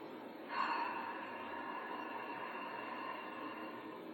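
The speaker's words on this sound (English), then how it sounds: "as you exhale through the mouth, you're going to make an ocean sound" A long, breathy yogic ocean-breath exhale through the mouth, soft and steady like a hushed rushing sound, close and alone.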